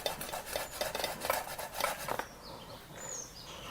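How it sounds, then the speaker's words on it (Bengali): Potatoes are rubbed against a metal grater in quick rhythmic rasping strokes, close and crisp for about two seconds. Softer scraping and faint clinks follow, with no talk. "তো দেখুন আমি গ্রেটার দিয়া আলুগুলারে গ্রেট করব"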